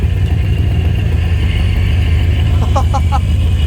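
A supercharged Corvette rumbles along with its blower whining, a loud low engine drone held steady from a close position, with a few short chirps near the end.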